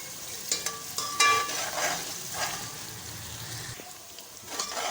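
Onion and garlic sizzling in hot oil up close, with steady frying crackle and occasional stirring scrapes.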